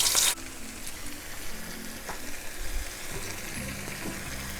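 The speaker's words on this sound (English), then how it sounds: "Oil is hot. Put pork in." Shredded pork hits hot oil in a wok and hisses into a steady, broad sizzle, opening with a sharp burst and then settling into a continuous crackle with a few stirring knocks.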